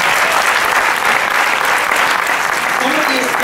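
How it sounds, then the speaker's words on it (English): Sustained audience applause from a crowd at a live psychic reading event, dense steady clapping filling the whole stretch at full volume with no gaps. "So give her some applause"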